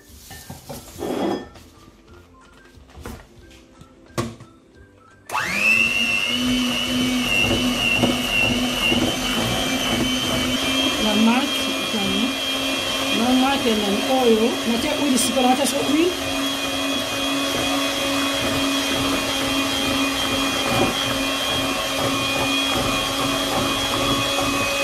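An electric mixer beats sugar and eggs for carrot cake batter, starting suddenly after a few light clinks and then running as a loud, steady motor whine with shifting tones as the bowl contents churn.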